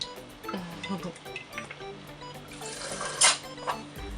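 Cold tap water runs and splashes over a color-changing Barbie doll in a sink, moderate and close, with intermittent drips and small handling noises.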